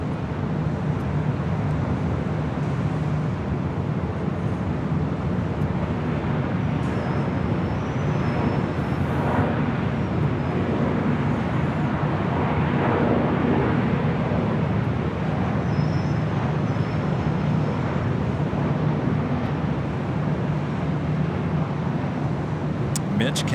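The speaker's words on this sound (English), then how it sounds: "The A340-300 also lighting up. She likes to take off here on the north side." A Lufthansa Airbus A340-300 takes off at Los Angeles International Airport, its distant jet roar a steady broad rumble that stays level throughout, mixed with ambient outdoor noise.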